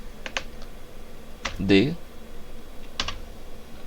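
Keys on a computer keyboard clack in a few quick, close taps with pauses between them, over a quiet room background while someone speaks softly.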